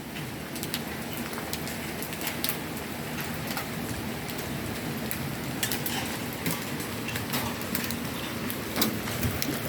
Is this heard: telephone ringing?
no